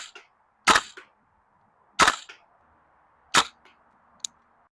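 A VFC KAC SR16E3 CQB MOD2 gas blowback airsoft rifle fires three sharp, loud shots about 1.3 seconds apart, each a crisp crack with a short mechanical tail, then a small click near the end.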